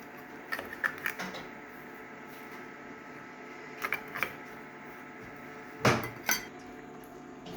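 Masala paste frying in oil in a kadhai, stirred with a metal spatula: sparse clinks and scrapes against the pan in small clusters, moderately close, with no voices.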